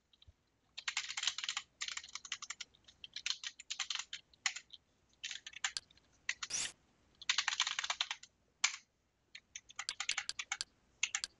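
Fingers type a username and password on a computer keyboard in quick, uneven bursts of close, crisp key clicks separated by short pauses, with a single heavier tap standing out midway and no speech.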